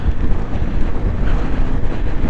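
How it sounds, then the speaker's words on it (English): Strong wind roars and buffets the microphone continuously, a loud rushing blast with uneven gusts and no voices. "we really feel a compressed wind just whipping up over the front"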